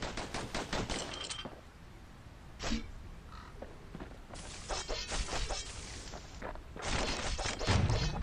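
Dual slinger pistols firing in the action game Bastion, rapid bursts of sharp cracking shots in quick volleys with short pauses between them, loud and close.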